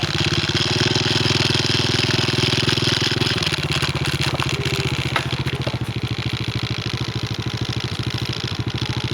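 A motorcycle engine running close by on a morning ride back to a cattle pen, a loud rhythmic thumping putter that shifts pitch slightly partway through and keeps chugging steadily.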